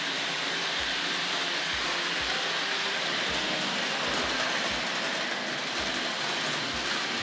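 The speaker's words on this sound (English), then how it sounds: "Makes a lovely rattle when it comes over the points." A continuous rushing rattle of a Hornby Dublo model train running along track, with rhythmic clicks and knocks as wheels pass over the points.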